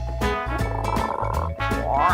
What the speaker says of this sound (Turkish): Bu bir kurbağa.